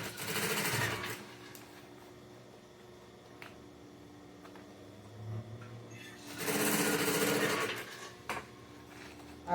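A sewing machine stitches close to the edge of a fabric cosmetic bag in two loud running bursts, one at the start and one near the end, with quieter handling in between.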